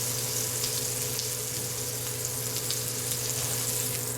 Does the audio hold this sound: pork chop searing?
yes